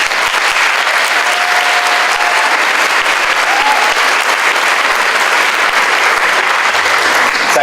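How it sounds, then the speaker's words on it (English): Sustained audience applause at a school graduation ceremony, dense and steady from start to finish with no pauses, like a full room clapping together. "So please join me in a round of applause."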